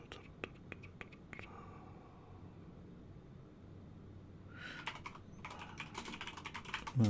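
Computer keyboard typing commands on a Raspberry Pi, heard as a quick burst of close, crisp keystrokes, a quiet pause, then another clattering run of keys near the end.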